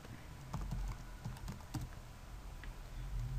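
Typing on a computer keyboard, with quiet, irregular key clicks in short bursts close to the mic and no speech.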